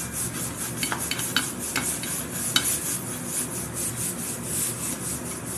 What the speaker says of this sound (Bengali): পটলগুলো ঝটপট আমি বাইন্ডারে কুড়িয়ে নেব